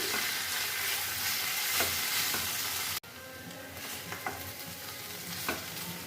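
Mushroom curry masala is stirred in a frying pan, with a steady close sizzle and frying hiss throughout, a brief break midway, and light scraping strokes of the spoon against the pan.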